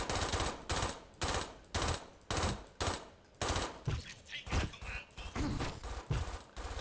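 Rapid sniper gunfire in a video game, played with a Rat 7 gaming mouse: a rhythmic series of loud, punchy shots, about a dozen evenly spaced cracks, then a looser, more irregular burst of firing, with no talk.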